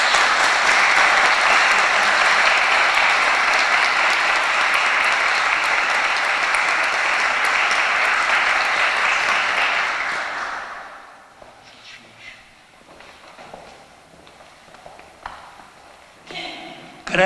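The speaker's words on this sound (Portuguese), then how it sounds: "Nós vamos cumprimentar aplaudindo." A church congregation applauds during a wedding mass in Santa Bárbara, Terceira. Steady, full clapping runs for about ten seconds, then cuts off into a quiet room with scattered small knocks and shuffles.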